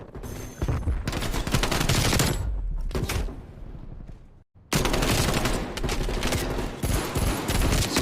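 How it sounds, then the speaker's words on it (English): Rapid gunfire rattles through a Call of Duty match, including pistol shots traded between players, loud and dense, cutting out briefly to near silence before resuming just as heavily. "Scump trying to hit with a pistol"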